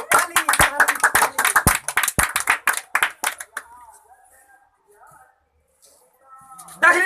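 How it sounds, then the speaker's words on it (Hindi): An audience at a comedy magic show claps loudly in a fast, steady rhythm for about three seconds, then falls quiet, leaving only faint voices. "ताली ताली ताली ताली ताली"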